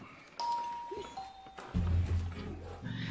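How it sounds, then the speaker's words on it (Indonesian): A two-tone doorbell chime rings out in a film scene while a family sits eating together, two clear dings followed by a louder, low rumbling sound. "Tidak lama, terdengar sebuah bel."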